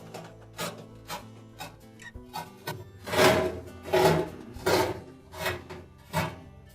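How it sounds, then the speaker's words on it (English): Old felt seal being peeled off an Amana dryer drum gives a series of dry tearing and scraping rasps, soft at first and then louder, rhythmic pulls close up with no talk. "take a piece of the old felt at the rear here, loosen it up, and then just peel it off."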